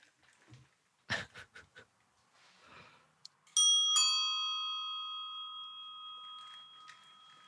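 A bell struck once and left to ring, giving a bright sustained tone with a few clear overtones that slowly decays, preceded by a few scattered soft knocks and handling sounds.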